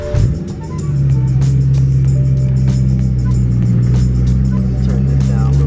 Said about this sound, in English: my car is kind of loud